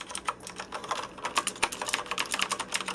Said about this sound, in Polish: jak na mechanika, oczywiście klawiaturka głośna